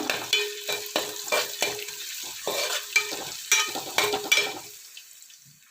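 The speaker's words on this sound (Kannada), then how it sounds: "ಒಂದು ಹಸಿಮೆಣಸಿನಕಾಯಿ ಮತ್ತು ಒಂದು ಈರುಳ್ಳಿ ಹಾಕ್ತಿದ್ದೆ ಇವೆರಡನ್ನು ಸ್ವಲ್ಪ ಚಂದ ಮಾಡಿ ಫ್ರೈ ಮಾಡುವ" Onion and green chilli frying in coconut oil for a Kundapura-style crab sambar, with a steady close sizzle broken by repeated stirring scrapes, the sizzle trailing off near the end; no talking.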